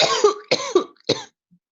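A person coughs three times in quick succession, close and fairly loud, the last cough shorter than the first two, followed by silence.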